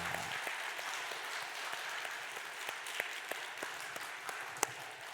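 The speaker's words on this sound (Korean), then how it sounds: "박수 한번 하도록 하겠습니다." Congregation applauding at a Sunday church service, a steady wash of many hands clapping at moderate distance, fairly soft, with a few sharper individual claps standing out.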